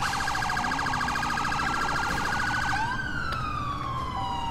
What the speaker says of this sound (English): We need to turn the siren off. It's getting real annoying.